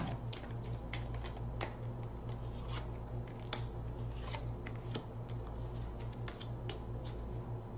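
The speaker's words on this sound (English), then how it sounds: "One more shuffle." Tarot cards are shuffled repeatedly in quick riffling bursts, close and fairly quiet, with no talking.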